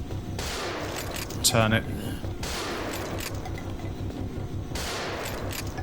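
A shotgun fires in the video game Doom 3 with heavy blasts spaced a couple of seconds apart over a constant rumbling background. A voice speaks briefly between the shots.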